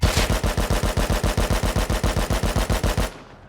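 Automatic AK rifle in the survival game Rust fires a rapid burst of about twenty loud, evenly spaced shots over three seconds, then cuts off with a short fading tail.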